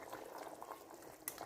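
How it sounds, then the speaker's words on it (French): A fish soup sauce of tomato, onion and chili blended with water simmers gently in a pot, giving a soft, continuous bubbling hiss with faint pops and one brighter splash near the end. "je vais laisser cuire ma sauce tout doucement comme ça"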